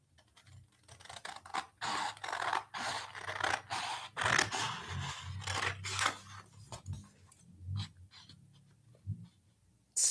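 Scissors snipping through a sheet of printed paper for a bullet journal, a series of close, crisp cuts and rustles in irregular bursts, pausing near the end, with no talking.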